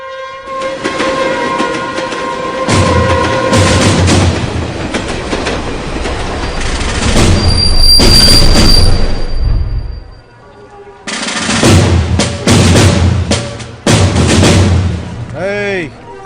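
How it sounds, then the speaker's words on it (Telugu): A train passes close by on railway tracks, loud and sustained, with rumbling wheels, rhythmic clattering over the rails and a horn blast, fading briefly before the noise surges back near the end. "మన తర్వాత వచ్చిన ట్రైన్ కూడా వెళ్ళిపోతుంది"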